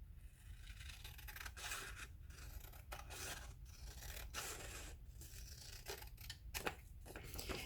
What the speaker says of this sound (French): Je découpe cette bande-ci.